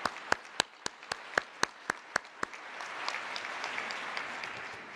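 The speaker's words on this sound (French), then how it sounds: "ils m'ont demandé de vous applaudir aussi chaudement" Applause at a HELP gathering in Haiti opens with about ten sharp, evenly spaced claps, then swells into a steady, moderately distant wash of crowd clapping.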